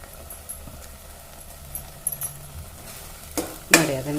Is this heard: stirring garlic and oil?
yes